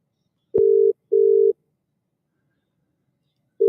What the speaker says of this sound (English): you can technically tell what the numbers are that I'm dialing